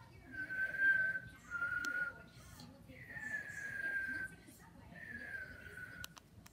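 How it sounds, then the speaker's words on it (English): A person whistles four sustained, sliding tones in a row, each held for about a second with short gaps between them, heard fairly faint over low background noise. "try to whistle and copy what I do with my whistle"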